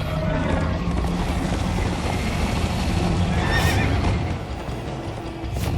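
A horse in Minecraft Story Mode gallops with continuous hoofbeats and gives a neigh midway, loud and close amid dense rushing action noise, with no speech.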